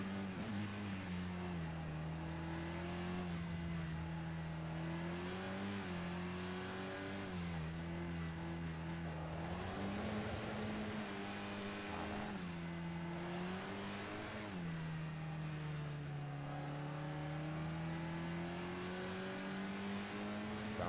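Race car engines from touring car class racing in Project Cars 2 rev and climb through gears in a continuous loud drone, pitch rising and dropping with each shift, with no talk over it.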